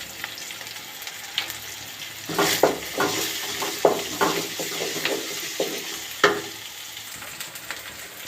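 Ginger garlic paste and turmeric fry and sizzle in a pan while a wooden spoon stirs them, with a steady sizzle under a run of close, irregular scraping strokes and no talking.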